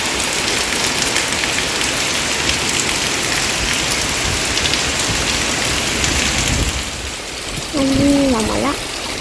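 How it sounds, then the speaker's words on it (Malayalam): Steady rain falls on a garden with bean and pumpkin plants, a dense continuous hiss throughout, with a brief voice speaking near the end. "മഴ"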